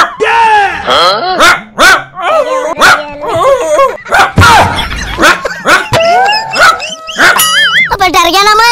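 A dog barks and yips repeatedly in quick bursts, loud and close, mixed with excited whimpering cries.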